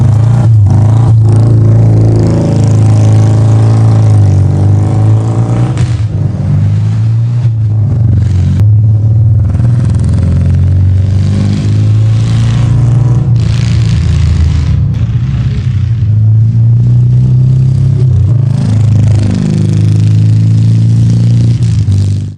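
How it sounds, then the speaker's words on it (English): A BMW R20 concept bobber's 1802cc air-cooled boxer twin, the big R18 engine, runs loud and close with a deep, steady rumble. Its revs swell and ease repeatedly, and no one speaks. "taking BMW's biggest ever motorcycle engine, the R18's 1802cc air-cooled boxer twin"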